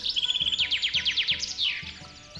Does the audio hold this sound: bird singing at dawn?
yes